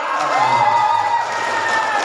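A group of teachers at a kindergarten teachers' workshop in Cilawu, Garut, cheers and whoops for a winning team during a group game, with loud, sustained, sung-out voices rising and falling together close by.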